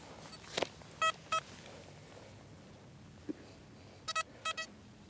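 XP Deus metal detector giving short beeping signal tones over a faint outdoor background, several brief pairs of beeps spaced apart, quiet and close.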